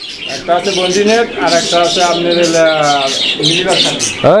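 A pair of pigeons at a pigeon collection coo in a run of warbling, repeated calls, close and clear, with someone talking over them throughout.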